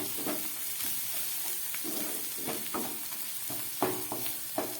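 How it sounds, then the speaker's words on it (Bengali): Potatoes and onions fry in a pan over a medium gas flame, giving a soft continuous sizzle up close, punctuated by repeated light scraping and stirring knocks. "আলুটা পেঁয়াজটা ভাজা হয়ে এসছে"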